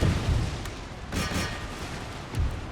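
Booming howitzer and cannon fire from a Dutch versus Portuguese battle in a strategy war game, a few heavy bursts standing out over a steady rumble of distant gunfire, with no voices.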